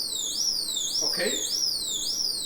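A high-pitched electronic chirp from a plug-in ultrasonic rodent repeller repeats in a steady rising sweep, four times, with a faint voice briefly murmuring underneath.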